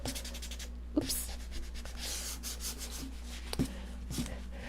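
Sandpaper rubs back and forth by hand in steady, close strokes, a soft continuous scratching with a few sharper scrapes.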